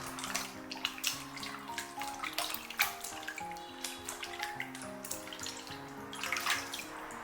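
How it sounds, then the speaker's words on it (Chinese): Pork intestines being rinsed by hand in warm water in a basin before the dirty water is poured out, heard as faint, continuous splashing and sloshing with small irregular swishes. "加入温水进行一次漂洗，稍微抓洗一下，把脏水倒掉"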